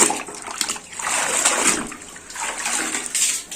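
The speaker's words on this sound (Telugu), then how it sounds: "ఎక్సెస్ వాటర్ వెళ్ళిపోయి వెళ్ళిపోతాం" Water drains and trickles from a wrung-out silk blouse hung over a tap, a steady close splashing patter that swells and eases in waves without pause.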